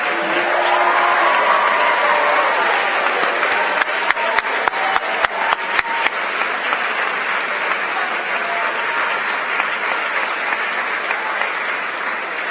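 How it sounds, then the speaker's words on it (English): Sustained applause at a high school awards ceremony for standing team members, a loud, dense roar of many hands, with a short run of sharper, evenly spaced claps near the middle before the crowd noise carries on steadily. "please rise to receive our applause"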